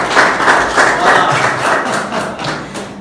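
Audience applause at a live French singing contest show, a loud, steady patter of many hands with some thumping, continuing for a few seconds.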